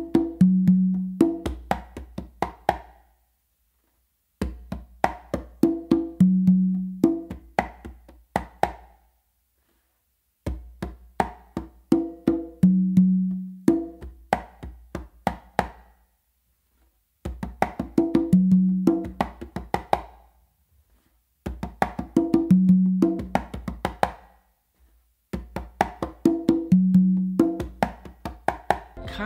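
A songo rhythm is played on two congas, with bass tones, finger strokes and closed slaps repeating in six short bursts separated by brief silences, close and clear with no talk.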